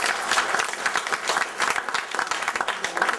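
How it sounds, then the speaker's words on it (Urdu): An audience at a poetry mushaira in The Hague claps together in a dense, lively round of applause that stays fairly loud and even throughout, with no talking over it. "ایک بار اور تالیاں۔"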